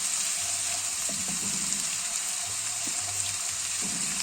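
Onions fry in plenty of oil in a pan, a steady hiss and sizzle with a few soft bubbling pops and low clunks now and then, close and continuous.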